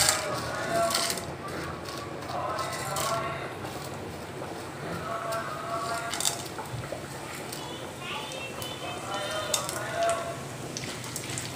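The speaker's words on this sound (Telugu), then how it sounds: "ముందు నేను శనగపప్పు మినప్పప్పు వేసి వేయించుకుంటాను." Chana dal and urad dal frying in hot oil in a pan, giving a steady broadband sizzle and crackle that runs through the whole stretch at moderate level, with no talk over it.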